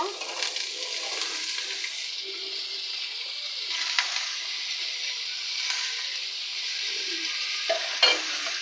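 Onions browned in a pan sizzle and fry steadily as pumpkin pieces are added and stirred, with a few louder scraping stirs near the end.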